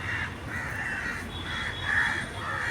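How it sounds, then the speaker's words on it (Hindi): Crows caw repeatedly outdoors on a mild sunny winter day, their harsh calls coming in steady bursts every half second or so over a soft background hum, fairly near and clear. "कभी किस पक्षी का उड़ना, कभी किस पक्षी का आना"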